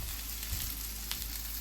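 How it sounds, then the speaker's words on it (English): Garlic and salmon fry in a pan with a steady, soft sizzle and crackle, faint and even throughout, with a brief louder clatter at the very end and no talking. "So let the garlic fry a little bit."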